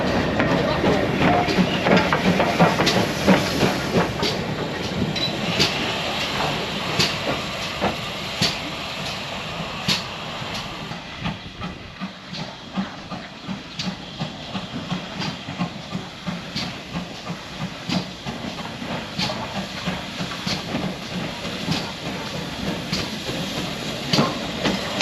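GWR Hall class steam locomotive 6990 on the Great Central Railway, heard with a steady hiss of steam and regular rhythmic beats and clicks, moderately close, over a background of outdoor noise and faint voices.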